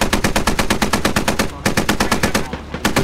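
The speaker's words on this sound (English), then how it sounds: "Another shot in the back of the Striker." Rapid automatic gunfire hammers a Stryker vehicle in the video game Squad, coming as loud, evenly spaced bursts of sharp shots with a brief gap partway through.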